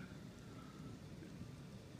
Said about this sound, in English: See, that's thunder and lightning.